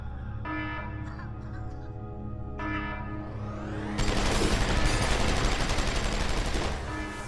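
Gunfire in Deus Ex: Human Revolution, a steady dense roar of shots that surges louder midway over a droning game soundtrack, with no talk.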